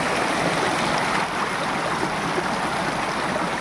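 Cold mountain stream water rushes steadily through natural picnic pools, a dense, constant close-up wash of flowing water with no voices over it.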